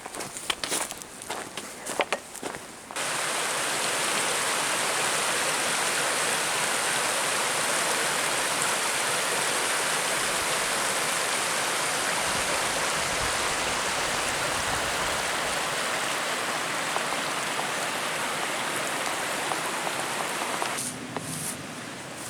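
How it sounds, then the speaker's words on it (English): Seneca Creek rushes along a backcountry trail past waterfalls, a loud, continuous broadband roar of flowing water, briefly preceded and followed by footsteps and rustling up close. "There's apparently a whole bunch of waterfalls and stuff the whole way along here"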